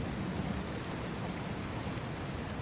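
Steady rain patters against a window, a dense, even wash of drops with a soft low rumble beneath, continuous and close with no voices.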